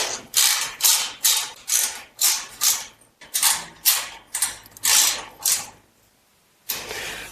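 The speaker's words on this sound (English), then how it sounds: "go ahead and tighten this side up as well" A ratchet wrench tightens bolts on a FLEXIMOUNTS GR38-2T two-tier overhead garage storage rack, giving a rhythmic series of close, sharp clicking bursts with short pauses between strokes.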